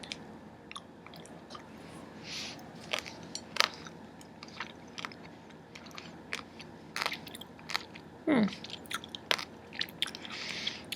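Intensely flavored chocolate with a coffee note is bitten and chewed up close, with sharp crunchy snaps followed by scattered soft chewing clicks and wet mouth sounds over quiet room tone.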